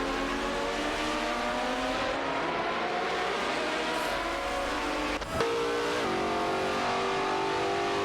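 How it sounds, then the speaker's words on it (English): Koenigsegg CCGT and Chrysler Viper GTSR race cars in a video game, engines droning steadily at high revs throughout, with a brief sharp shift or squeal midway. "It's a showdown between the Koenigsegg CCGT and the Chrysler Viper GTSR."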